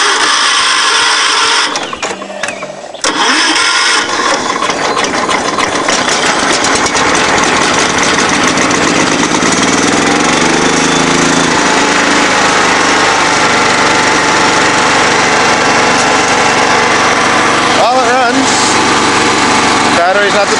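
A Ford lawn mower engine catches after a brief cranking stutter and then runs loud and continuous, a buzzing, slightly uneven drone that holds steady close by for the rest of the time.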